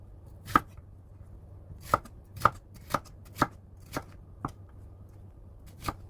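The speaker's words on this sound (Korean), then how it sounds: "그러면 야채를 썰게요" Knife chopping vegetables such as paprika and cabbage on a cutting board, about nine crisp separate thuds at an uneven pace, close and clear against a quiet kitchen hum, no talking.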